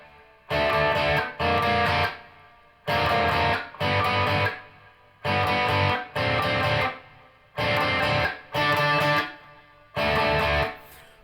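Distorted electric guitar plays a riff, with paired chunky bursts repeating in a steady rhythmic cycle and short gaps between groups, loud and alone with no voices.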